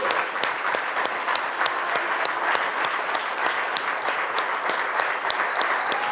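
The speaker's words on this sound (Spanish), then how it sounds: "Con un aplauso para Dios." A church congregation applauds during a worship service, steady sustained clapping from many hands filling the room at an even level throughout, with no clear speech over it.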